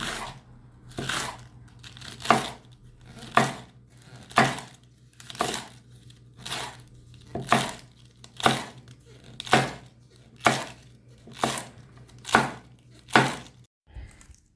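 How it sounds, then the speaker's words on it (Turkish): Purple cabbage is chopped thinly by hand on a board, giving a steady run of crisp crunching knife strokes roughly one per second, close and clear over a faint hum. "Şöyle incecik incecik doğruyorum arkadaşlar."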